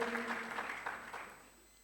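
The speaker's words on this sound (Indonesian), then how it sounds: "Katakan amin, berikan tepuk tangan." A church congregation at a Sunday service gives brief applause, a moderate wash of many hands clapping together that fades away within two seconds.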